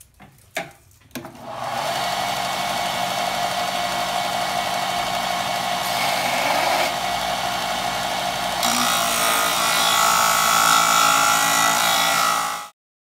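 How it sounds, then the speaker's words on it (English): Steel railroad spike being ground to shape a karambit finger hole, a loud continuous high grinding whine that starts after a few short bursts and holds steady, brightening in pitch near the end before cutting off. "Now I'm going to grind all that off so that I have a perfect circle for the finger hole."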